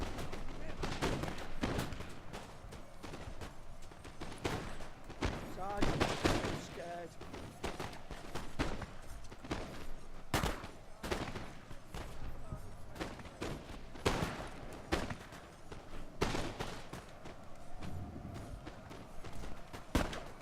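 Musket volleys in the Napoleon Total War battle game, sharp cracks and rolling bursts of gunfire at irregular intervals over a noisy battlefield din, with someone talking throughout.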